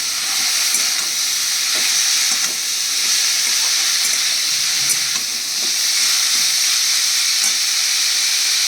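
Banana stem ghonto sizzling and hissing in a pan as it is stirred, a steady loud frying sound with faint scraping throughout.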